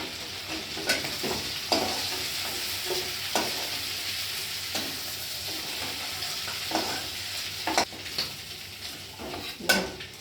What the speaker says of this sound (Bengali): কি সুন্দর লাল করে ভাজা হচ্ছে